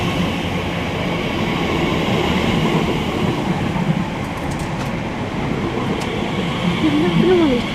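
A train at West Ealing station on the Great Western Main Line gives a steady, close rumble and rolling wheel noise with no break throughout, and faint voices may sit underneath.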